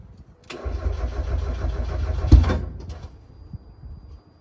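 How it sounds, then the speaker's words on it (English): A Mazda NA Miata engine cranks briefly and catches, running with a loud low rumble for a couple of seconds, then cuts out and leaves a quiet tail. "let's try to crank it, guys"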